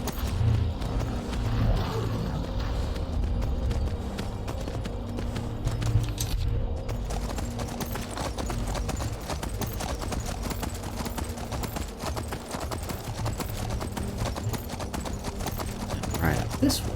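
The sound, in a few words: horse hooves while riding, from video game Skyrim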